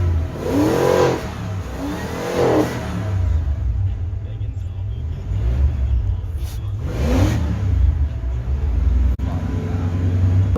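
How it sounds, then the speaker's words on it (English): A 1992–97 Ford F-150 truck engine running and revving, a mid-pitched engine that rises in a few distinct rev swells over a steady idle, with a person talking over it. "At this point, I've gotten the truck running."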